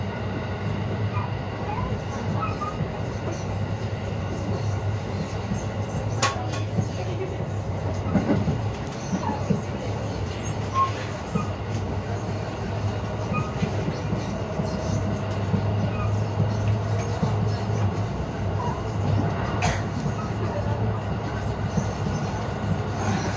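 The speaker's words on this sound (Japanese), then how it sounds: "この電車は終点大阪まで" A commuter train bound for Osaka rumbles steadily along the rails, with a low continuous drone, occasional clacks and faint squeals, and a muffled announcement-like voice underneath.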